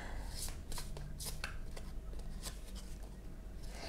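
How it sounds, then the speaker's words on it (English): Quick riffling bursts of cards being shuffled, a series of crisp flutters, close up, with faint background hum and no talking. "Why don't I shuffle that deck on camera as well"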